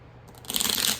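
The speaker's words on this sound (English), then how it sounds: "I'm having trouble shuffling" A deck of cards is shuffled, a quick riffling flutter that starts after a brief pause and runs to the end, close and fairly soft.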